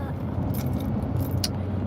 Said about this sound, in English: I am driving.